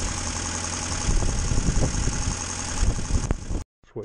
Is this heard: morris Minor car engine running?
yes